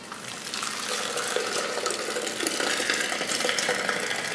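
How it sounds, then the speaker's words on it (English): Liquid milk mixed with yogurt culture pours in a continuous splashing trickle into mason jars, close and moderately loud, with no talking. "pour it into I use mason jars for mine"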